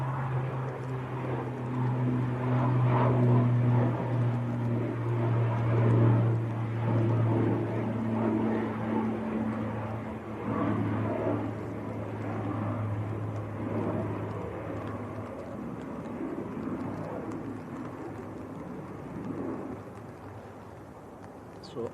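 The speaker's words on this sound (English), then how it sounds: "Danish air transport operating for Loganair, ATR 72." A Danish Air Transport ATR 72 turboprop operating for Loganair at Manchester Airport gives a steady propeller drone with strong low tonal hums that ease off after the first half.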